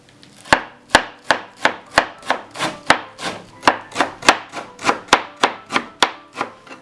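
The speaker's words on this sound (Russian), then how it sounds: "Нарезаем мелко." Knife finely chopping fresh cilantro and dill on a board for a home-cooked Uzbek dish, sounding as a steady run of about seventeen close, crisp strokes at an even pace, with no voices.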